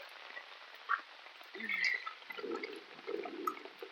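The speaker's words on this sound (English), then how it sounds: "there goes the sump pump kicking on and shoving more water into that flooded area" A basement sump pump kicks on during a storm and pushes water into an already flooded area, giving faint gurgling, splashing and trickling, with a few small drips and surges at low level.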